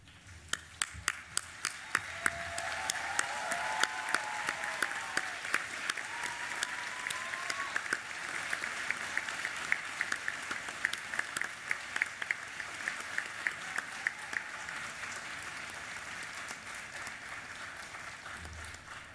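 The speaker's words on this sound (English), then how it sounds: "I ask you to stand up and face your loved ones and give them a big clap and a cheer" Graduates at a University of South Australia graduation ceremony clap for their families, a sustained wave of crowd applause with sharp individual claps filling a large hall for nearly twenty seconds.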